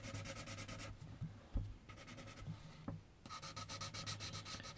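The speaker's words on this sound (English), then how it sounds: "I'm using these pencils now. I can actually put more pressure on them." A wooden pencil pressed hard against paper while drawing a girl, making close, rhythmic scratchy strokes in quick bursts separated by brief quiet gaps, with no voices.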